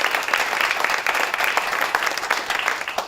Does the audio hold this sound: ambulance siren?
no